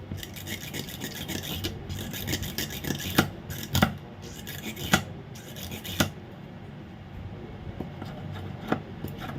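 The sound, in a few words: cleaning a rusty spring from a Hitachi AC remote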